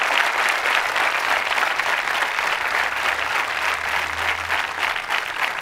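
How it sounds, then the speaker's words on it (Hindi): A college audience at a quiz show applauds in sustained, dense clapping, close and steady for several seconds, with a low hum running under it. "तालियां बजाइए आपके लिए एक बार।"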